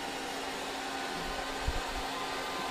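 A Comdirect cash deposit machine counts banknotes with a steady, even mechanical whir and a brief low thump partway through, heard up close with no voices.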